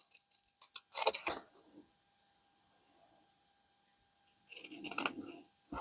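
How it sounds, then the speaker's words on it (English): Scissors snip through paper to trim away its white edges, a crisp burst of cuts, then a pause and another short run of snips, close and quiet. "I'm just going to trim that off a little bit, because I don't really want those white edges"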